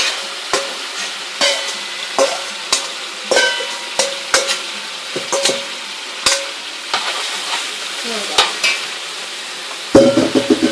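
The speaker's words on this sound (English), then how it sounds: "we're going to stir and mix and blend it all in together" A spoon scrapes and knocks against a pot while ingredients for escovitch red snapper are stirred and mixed, irregular clinks and taps over a soft sizzle, close and alone.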